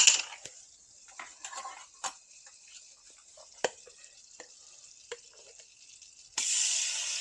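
Butter melts in a pan with a soft, thin sizzle and scattered small clicks and taps, then swells into a louder, fuller hiss near the end.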